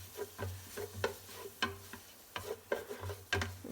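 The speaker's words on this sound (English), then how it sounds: "Let's give that a little mixy mix" A spoon stirring a pot of Moroccan chickpea and lentil harira soup, with a series of soft, close scraping knocks in an uneven rhythm and a faint low hum beneath, no voices.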